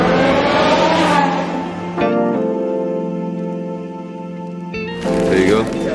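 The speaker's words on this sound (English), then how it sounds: "If you guys can hear the cars buzzing in the background" Formula 1 race cars buzz around the Monaco street circuit during the 2021 Grand Prix, a high, whining engine drone rising and falling in the background beneath nearby people talking.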